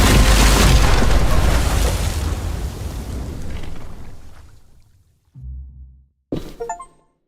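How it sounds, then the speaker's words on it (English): A bomb goes off in The Walking Dead: The Final Season game, a huge roaring blast with rumbling debris that fades over about five seconds, followed by a couple of short, sharp crashing impacts. "Shit, the bomb!"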